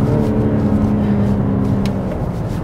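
A BMW M4 G82 with a manual gearbox accelerates in second gear, its engine a steady, close, low drone with no talk.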